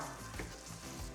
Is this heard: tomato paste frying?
yes